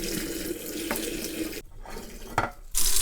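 Warm tap water runs into a sink while simmered chicken for spicy Korean braised chicken gets rinsed, a steady hissing splash that briefly thins and breaks up before gushing strongly again.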